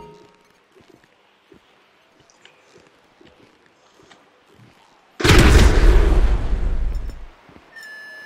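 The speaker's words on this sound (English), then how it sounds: "An explosion will tend to do that." Plastic bomb charge detonating in Grand Theft Auto 5, preceded by faint scattered game noises, then a sudden loud booming blast with a roaring rumble that lasts about two seconds and fades.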